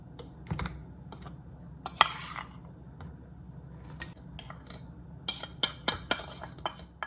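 A mixture of sifted dry ingredients is stirred in a dish, giving irregular light scraping and clinking taps of a utensil against the bowl, close and fairly quiet, with brief pauses between bursts.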